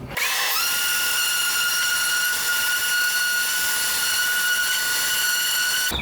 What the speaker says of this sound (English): So let's sand up this glue and smooth it out.